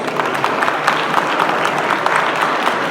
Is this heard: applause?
yes